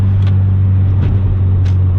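A 600-wheel-horsepower Subaru STI gives off a loud, close, steady engine drone with a deep low hum for a couple of seconds.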